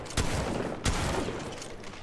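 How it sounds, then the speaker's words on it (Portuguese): Gunfire from Apex Legends Mobile, with two sharp loud bursts about half a second apart over dense continuous background game noise, no speech. "O cara me deu uma rajada"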